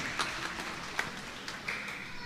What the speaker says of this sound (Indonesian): Tepuk tangan maju kita tuh guru sekolah mingguan